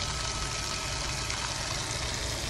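A small solar-powered pump wired straight to a panel pushes water in a steady, continuous rushing and splashing stream that holds constant from start to end.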